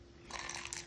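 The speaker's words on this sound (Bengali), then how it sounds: "আমি খাচ্ছি আমার বউয়ের তৈরি গরম গরম কারচিকাই।" Crunchy bites into a hot, crispy fried karchikai snack made at home, a close chewing crunch that repeats steadily with no talk over it.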